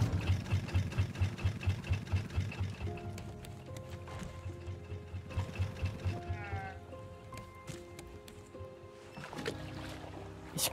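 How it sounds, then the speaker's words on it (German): Raft engines running in the multiplayer survival video game Raft, heard as a steady rhythmic low chugging that dominates the opening seconds before layered tonal game sounds take over. "Ich glaube, ein Motor fährt gerade vorwärts und der andere fährt rückwärts."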